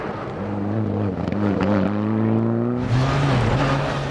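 A rally car engine on a gravel stage at Rally Whangarei, suffering a misfire, drones loudly and steadily with a harmonic whine, dipping and stumbling briefly before surging again.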